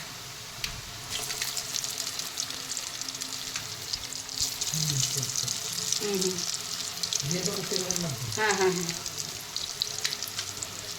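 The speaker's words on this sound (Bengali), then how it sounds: "এই ধোকা বেড়ে ভাজতে দিচ্ছি" Dhoka lentil cakes fry in oil in a Bengali kitchen, a loud continuous close sizzle with bubbling crackles, while a voice briefly talks over it and faint running-water sounds come and go.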